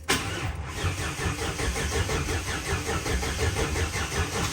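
A car engine, a Chevrolet SS, cranks repeatedly with a rapid, rhythmic churning, loud and close, without catching.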